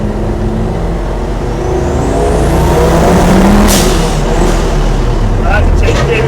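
A 550HP rear-engine Peugeot 205 accelerates hard on low boost, its engine note and whine rising steadily, loud and close from inside the car. A voice speaks over the drive.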